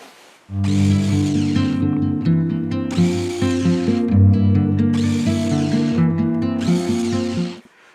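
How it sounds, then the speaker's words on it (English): Pieces of wood are cut on a chop saw set on the floor. The motor is loud and close, and its whine rises and falls through several cuts in a row, with no talking. "That's why we got to end up setting the chop saw on the floor."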